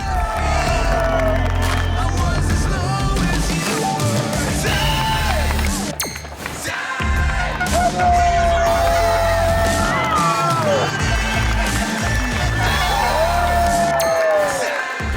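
A dense crowd whoops and cheers along an Enduro World Series mountain bike stage in Ainsa-Sobrarbe, loud and continuous, with shouts and voices mixed over the roar.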